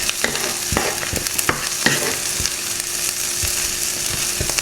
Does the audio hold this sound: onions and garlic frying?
yes